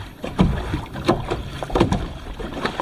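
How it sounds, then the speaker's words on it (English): A kayak paddles across calm water in the Dominican Republic, with rhythmic splashes and drips from the paddle strokes at about one per second, close and moderately loud over light wind. "We're just enjoying the serenity and paddling to the entrance of the barricade."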